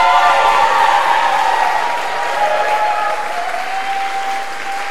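Dense, sustained applause fills a graduation worship service audience at a divinity school, steady and loud throughout with no talk over it.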